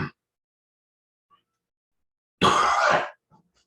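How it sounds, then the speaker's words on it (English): A single harsh cough bursts out close to the microphone after a stretch of near silence, with a faint clipped sound at the very start. "Sorry about the cough."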